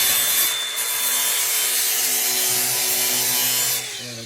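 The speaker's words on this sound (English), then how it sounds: "We're going to grind all the way back to this line." A sanding disc grinds across a gloss black plastic grill on a GMC Sierra AT4X truck, a steady close abrasive whine with a slight dip early on, fading at the end.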